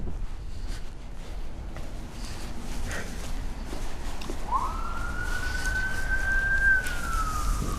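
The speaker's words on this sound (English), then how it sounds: "Oh, there's an ambulance going across." An ambulance siren passes in the distance on an outdoor city walk along a river, rising into a long wail over steady background rumble.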